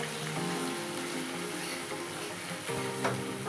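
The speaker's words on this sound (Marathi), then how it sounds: "आपण जे ग्रेव्ही केलेली होती ते मी ह्या तेलामध्ये छान आता फ्राय करून घेणार आहे" Paneer curry gravy frying in hot oil in a kadhai gives a steady, close sizzle with a soft bubbling crackle throughout, and a light scrape of stirring near the end.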